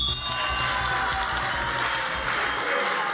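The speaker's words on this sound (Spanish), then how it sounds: "En medio de aplausos, la sala del Senado rechazó el proyecto de ley" Applause fills the Senate chamber after a bill is rejected, a dense, loud ovation from many lawmakers and onlookers, sustained without pause and nearly drowning out a faint background voice.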